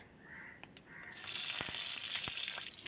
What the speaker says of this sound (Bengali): চিচিঙ্গাটা ভাজা বসিয়ে দিচ্ছি আর এই যে দেখো কালো জিরা ফোড়ন দিলাম